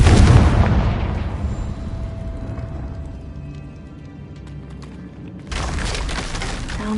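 In Hogwarts Legacy, the Confringo spell bursts in a loud, booming explosion that rumbles and slowly fades over several seconds before a second burst of noise cuts in near the end.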